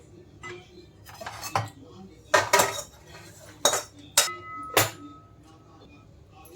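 Roasted grated coconut being scooped out of a pan with a metal utensil while making dry-fruit protein laddoos: several sharp scrapes and clinks against the pan, close and fairly loud, with quieter scraping in between.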